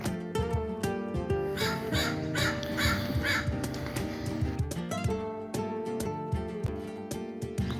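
Crows caw repeatedly at a beach park over layered background music, harsh calls overlapping in an irregular rhythm.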